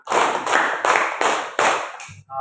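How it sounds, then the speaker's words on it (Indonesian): Six rhythmic bursts of hand clapping ring out in a classroom, loud and close, evenly spaced as a group claps along in a counting pattern. "Tepuk 1, tepuk 2, tepuk 3, tepuk 4, tepuk 5."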